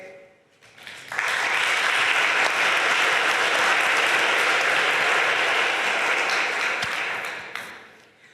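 An audience at a patient organisation networking day on lung disease breaks into sustained applause, rising sharply, holding steady and loud for several seconds, then tapering off.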